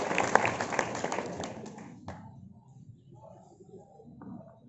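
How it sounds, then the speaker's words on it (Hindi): Audience applause welcoming a speaker at a student career-guidance event, a dense burst of clapping that thins out after about two seconds into scattered faint claps and murmuring. "जोरदार तालियों के साथ हम सुनते हैं भैया को"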